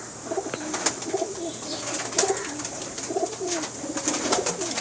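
Pakistani pigeons of the Bankay and Teddy breeds coo repeatedly in a loft, soft throaty rolling calls from several birds overlapping against a steady background hum, with no talking.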